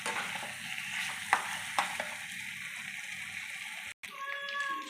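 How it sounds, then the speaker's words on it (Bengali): Fried chicken pieces sizzle and are stirred with spices in a hot pan, a steady close frying hiss with a few sharp utensil scrapes. It cuts out briefly near the end. "মাংসগুলো দেওয়ার পরেও দেখো ভালো করে কষানো গেছে"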